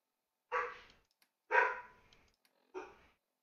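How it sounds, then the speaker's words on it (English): A pet dog gives three loud, separate barks at close range in a quiet indoor room, with short silent gaps between them and no talking. "Apologies if you can hear my dog."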